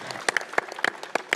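A brief burst of audience applause, a handful of distinct nearby claps in uneven rhythm over a soft background of more clapping.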